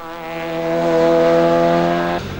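A race car at the 1998 Spa-Francorchamps 24 Hours roars loudly and steadily with a strong harmonic engine tone, then fades slightly as it passes.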